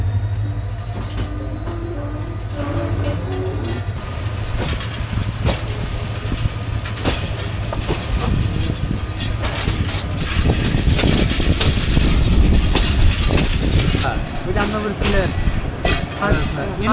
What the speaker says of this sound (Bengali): রাত 1টার সময় আমাদের ট্রেন উপবন এক্সপ্রেস ছেড়ে দিল কুলাউড়া